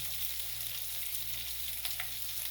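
Ginger and garlic frying gently in oil over low heat, a steady soft sizzle with faint crackles throughout, quiet and close, no talking.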